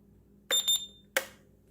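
An RC helicopter transmitter's timer beeps as it resets: a short electronic beep pattern followed by a second sharp beep, close and clear against a faint hum.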